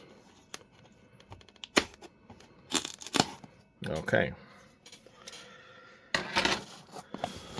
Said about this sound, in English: Making sure I got all the way through there with the scissors